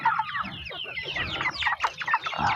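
Native free-range kampung chickens cluck and chatter close by, a busy overlapping stream of short calls with no talking.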